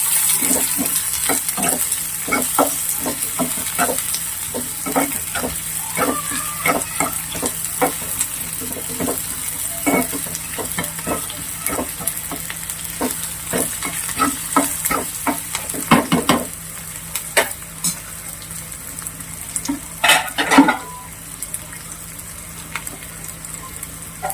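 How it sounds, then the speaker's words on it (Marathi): Onions fry in a pan with a constant sizzling hiss, punctuated by a long run of sharp ladle taps and scrapes against the metal as they are stirred, with louder clatters near the end. "आणि आता कांदा टाकून घेऊ आपण. कांदा लालसर होईपर्यंत भाजून घ्यायचा आहे."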